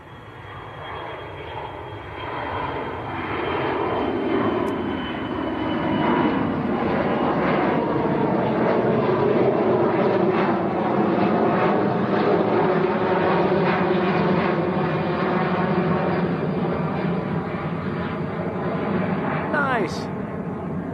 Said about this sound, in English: Now this should be, yes it is, it's the little 300 series 737 to Leeds, Bradford.